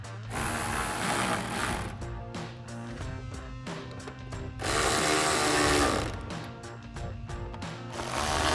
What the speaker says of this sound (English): we'll go ahead and tighten it all down. Again, with our 10mm socket on our ratchet